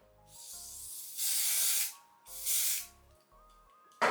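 Hairspray hisses onto a lace frontal wig in two firm bursts of about a second each, close and loud, with quieter background sounds between them.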